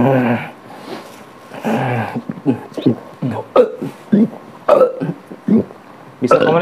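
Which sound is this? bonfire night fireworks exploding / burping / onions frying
burping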